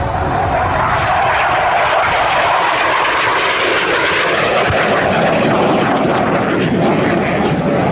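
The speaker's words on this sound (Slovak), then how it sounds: "ALCA je vlastne skrátka Advanced Light Combat Aircraft. To znamená, že je teda ľahké bojové lietadlo." An Aero L-159 ALCA light combat jet roars past at a Slovak air show, a loud continuous engine rush that swells and shifts in pitch for several seconds.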